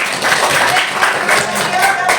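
A classroom group claps together in a call-and-response clap game, quick close rhythmic hand claps in short bursts, with voices mixed in.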